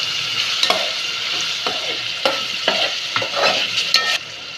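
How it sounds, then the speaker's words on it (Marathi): Tomato purée sizzles steadily in hot oil for a vegetable biryani, with a spoon scraping and stirring the pan in repeated strokes, close and loud with no voices. "आता ह्याच्यामध्ये मी टाकते टोमॅटोची पिरी"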